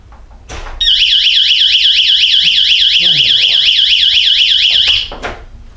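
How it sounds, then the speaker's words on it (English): A YoLink power outage detector alarm beeps loud, shrill and rapid, continuously for several seconds, close by, then stops abruptly amid some faint background rustling. "Alarm."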